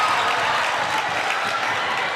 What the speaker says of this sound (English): And this crowd is going wild